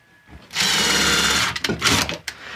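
A power drill drives screws into a wooden sawhorse with a loud, close whir lasting about a second, followed by a few shorter bursts as the screw seats.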